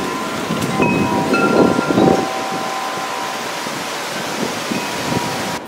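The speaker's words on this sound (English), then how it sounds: "wind blowing now" Storm wind in East Amwell, New Jersey blows in rushing, buffeting gusts across the microphone, loud and continuous with a brief stronger surge early on.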